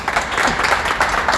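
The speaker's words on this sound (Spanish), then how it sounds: "Un fuerte aplauso a Luna Miguel y a Ernesto Castro por ser tan" Audience applause on a live Spanish comedy talk show, a dense burst of clapping from a studio crowd, close and steady for just over a second.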